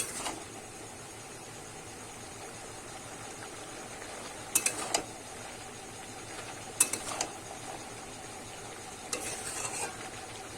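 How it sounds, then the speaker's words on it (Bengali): Bottle gourd greens with prawns frying in a pan are stirred, a soft continuous sizzle broken by a few sharp scraping strokes of the spatula, close and fairly quiet. "এবার কিন্তু ঢাকাটা খুলে দেখে নেব নেড়ে নেব একটু ভালো করে"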